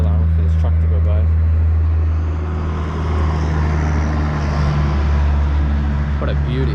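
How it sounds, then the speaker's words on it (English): A truck rumbles past outdoors, a deep steady engine drone that swells and fades, with a person speaking over it. "Hold on, wait for this truck to go by."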